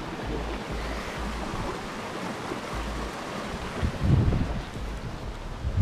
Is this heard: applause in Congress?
no